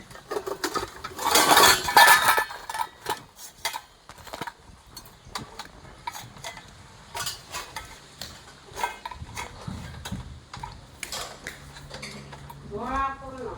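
Metal utensils in a basket clinking and clattering, with a dense burst of rattling early on followed by scattered clinks and knocks, people talking faintly in the background.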